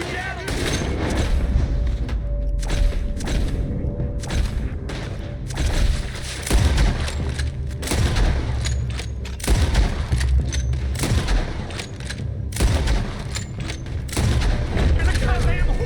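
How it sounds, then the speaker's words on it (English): Gunfire rattles through a Red Dead Redemption 2 shootout: repeated loud bangs and volleys come in dense clusters with short gaps, and voices are heard in the mix. "Why are they all shooting at us?"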